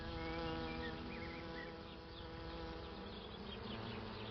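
A dense honeybee swarm hums steadily, a thick continuous buzz of many wings at even loudness with no voices.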